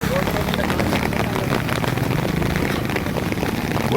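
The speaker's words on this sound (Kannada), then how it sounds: "ನಾವು ಚಿಕ್ಕ ವಯಸ್ಸಿನಲ್ಲಿ ನೋಡಿಲ್ಲ ಈ ಥರ ಮಳೆನ." Heavy rain in Kalghatgi pours down steadily as a dense, loud wash of noise, continuous and close, with voices faintly mixed in underneath.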